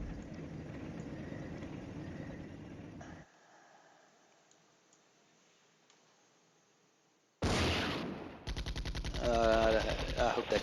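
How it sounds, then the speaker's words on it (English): Artillery and gunfire in the wargame Flashpoint Campaigns: Red Storm, with a rumbling barrage that fades to near silence, then loud rapid bursts of automatic fire and blasts close up near the end. "I decided to hit that guy with artillery"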